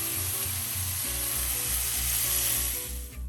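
Beef fillet for beef Wellington sears in a hot pan, giving a loud, steady, broadband sizzle that holds throughout and eases off near the end, with low rhythmic clunks beneath it.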